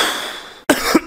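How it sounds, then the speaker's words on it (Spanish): A child, who is ill with a cough, coughs twice in quick succession up close after a moment of quiet, with a faint background hum before the coughs. "Mira cómo estás de la tos"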